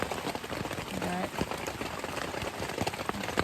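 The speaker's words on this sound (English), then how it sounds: "it's a beautiful sound listening to the rain." Steady rain falls at a campsite in North Georgia, a dense patter of drops hitting nearby surfaces that continues throughout, with scattered sharper taps standing out above the hiss.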